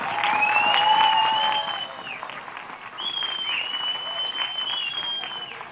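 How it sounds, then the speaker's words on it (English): Audience at a 2018 Team App Cup final claps for both teams, a moderate patter of applause with whistling tones riding over it, dipping briefly midway before continuing. "Can we please have one more round of applause for both teams who put on a really great show for us tonight."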